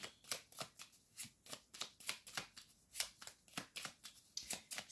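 Cards are shuffled close up in a tarot-style reading, making a quick run of crisp riffling flutters and snaps in steady repeated bursts, fairly quiet and with no talking.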